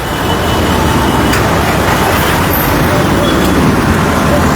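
Dense road traffic noise from a jammed street with vehicles parked crosswise, a steady loud rumble of engines and tyres continuing throughout without letup.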